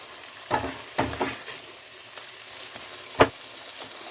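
Pumpkin and potato sautéing in a pan, a low steady sizzle broken by several sharp scraping stirs, with one loud clack near the end; no talking.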